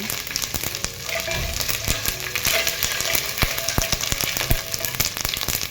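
Oil sizzles and crackles in a pan as a tempering for a traditional Marathi Bhogi mixed-vegetable dish, a steady close frying hiss broken by frequent sharp pops and clicks, with no voices.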